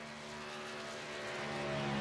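A race truck from the Extreme Truck Series runs a lap at Las Vegas, its engine a loud, steady droning roar that builds slightly in pitch and volume throughout.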